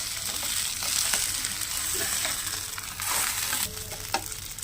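A whole fish fries in hot oil in a pan, giving a loud, steady close-up sizzle with crackling pops and occasional stirring or scraping sounds, with no talking.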